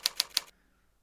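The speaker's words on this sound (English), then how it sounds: "let me just try typing it and quickly hitting backspace" Typing on a computer keyboard followed by quick backspace presses: three crisp, close key clicks in fast, even succession, then near silence.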